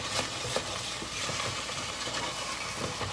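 Sweet azuki bean paste (koshian) being mixed in a pan over heat, giving a soft continuous sizzle and hiss with faint scraping strokes of the utensil, close and fairly quiet with no voices.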